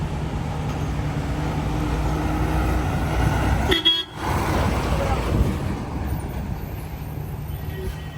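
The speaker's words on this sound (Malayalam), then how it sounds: "അതെനിക്കുള്ള ഹോണടിയായിരുന്നു" A bus horn honks once over steady road and engine noise at a busy bus stand in Kozhikode, with voices talking faintly in the background.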